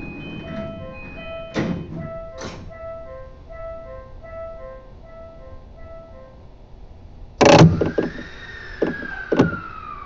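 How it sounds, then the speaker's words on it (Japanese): A JR East E235 Yamanote Line train sounds its door-closing chime in a repeating melodic pattern, then the doors shut with a sharp thump and a rising electric motor whine as the train begins moving. "ドアが閉まります。"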